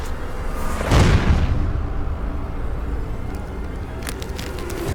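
A deep explosive boom from a charge set to breach an underground tunnel, one heavy low thud followed by a long rumbling roar and debris noise that stays loud for several seconds before cutting off.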